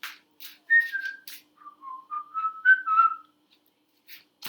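A person whistles a short tune alone, clear sliding melodic notes in gapped phrases, close and fairly soft with breathy hiss between notes.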